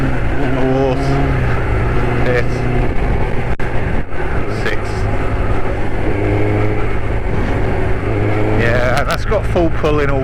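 Kawasaki ZX6-R motorcycle engine revving and accelerating through the gears, a loud close continuous roar with rising and falling pitch sweeps, someone talking over much of it.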